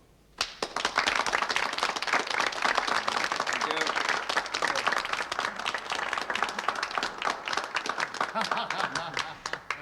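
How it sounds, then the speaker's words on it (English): An audience applauds after a speech at a West Barsetshire election meeting, steady loud clapping from a crowd that fills the room for nearly ten seconds after a brief quiet start. "If the same people who clapped the last speaker so enthusiastically also clapped then please don't bother."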